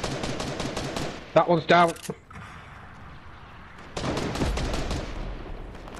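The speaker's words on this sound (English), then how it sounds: "someone's on that hill over there shooting us in our croc egg" Rapid bursts of gunfire from the battle royale game Fortnite crackle in dense volleys at the start and again near the end, with a short spoken line between them.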